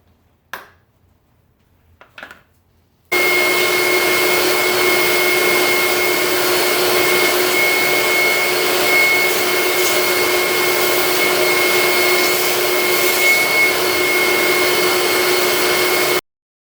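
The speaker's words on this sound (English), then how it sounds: "so we're going to vacuum that out good." Vacuum cleaner sucking dirt out of a lawn mower deck, starting after a few faint clicks and handling noises, then running loud and steady with a whining hum until it cuts off.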